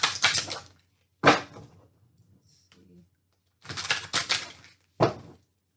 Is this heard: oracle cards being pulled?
yes